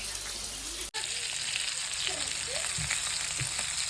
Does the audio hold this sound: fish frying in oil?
yes